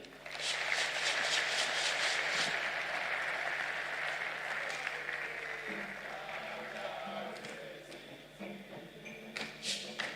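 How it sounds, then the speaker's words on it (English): Sustained applause from the audience at an anniversary commemorative lecture, dense steady clapping that slowly thins out, with a few scattered claps near the end. "Another round of applause for the Chief of Staff and our Chairman for today's occasion, Honorable Julius Deborah."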